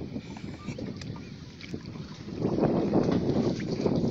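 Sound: boat sailing on the water with wind

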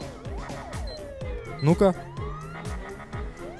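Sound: ambulance siren in GTA 5 video game

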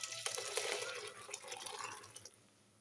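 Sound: pouring cooked noodles from pot into a vessel

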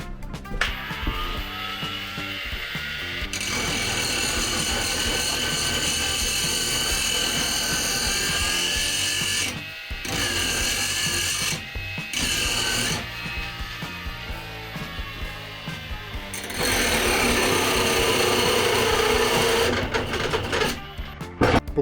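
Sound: ProCraft PW2700 brushless angle grinder running, cutting

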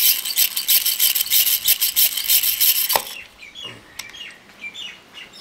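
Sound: drill machine boring a hole in a coconut's eye

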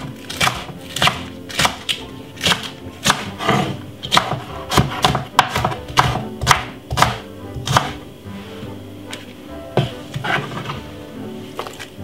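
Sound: chopping spring onion finely with a knife

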